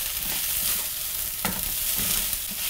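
Shrimp fried rice with pieces of egg hisses in a hot pan, a broad steady sizzle marked by a few knocks and scrapes as it is tossed through, close and without speech.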